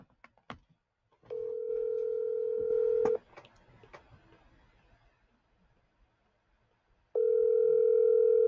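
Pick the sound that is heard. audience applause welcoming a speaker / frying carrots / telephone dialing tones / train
telephone dialing tones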